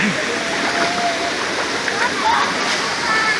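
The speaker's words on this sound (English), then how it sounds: "So you gotta walk through the water quite a bit." Rushing water at a multi-level waterfall in the Philippines roars steadily up close while someone wades through it, with faint splashes and sloshes layered over the constant broadband rush.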